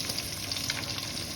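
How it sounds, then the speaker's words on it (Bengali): Chopped onion and green chili frying in a little oil, a soft, even sizzle with faint crackles throughout, fairly quiet and with no voices. "পেঁয়াজটা হালকা ভাজা করে দিলাম।"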